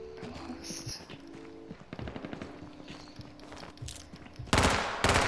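Gunfire in the battle royale game H1Z1, a few rapid bursts and scattered shots at moderate distance, ending in a couple of loud, close bursts.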